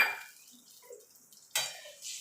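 Water from a rinsed spice bowl splashes into a pan of chhanar dalna, with a soft splash at the start, a quiet gap with small clinks, and a louder pouring splash near the end, close by.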